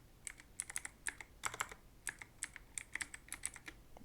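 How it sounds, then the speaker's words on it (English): Rapid clatter of keystrokes on a computer keyboard as a command is typed, irregular bursts of taps close up, with no talking. "And now just type here, type this command here"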